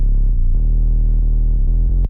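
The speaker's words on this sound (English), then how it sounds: "a really low sub" Very low synth sub bass sine wave from a UK bass production, a deep, loud, sustained tone that shifts pitch in short steps before cutting off abruptly.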